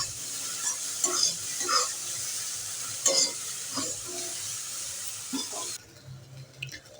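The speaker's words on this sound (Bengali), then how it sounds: "এটা আর একটু ভাজা করে নেব" Flattened rice with cumin powder and salt is fried and stirred in a pan, a steady sizzle broken by repeated scraping strokes of the spatula, close and fairly loud, with the sizzle dropping away near the end.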